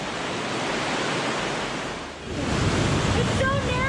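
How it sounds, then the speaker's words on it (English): A steady, loud roar of rushing water fills a narrow, cold, wet gorge in Bavaria, Germany, continuous broadband noise with a slight dip midway and a faint whistling tone near the end. "there's rushing water on the other side"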